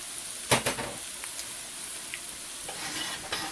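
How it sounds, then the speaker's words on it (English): Rice mixed with broken spaghetti noodles fries in a pan with a soft, continuous sizzle, broken by a few sharp stirring clatters early on and light scrapes later. "Now I'm going to throw in my rice with a little bit of spaghetti noodles that I broke up."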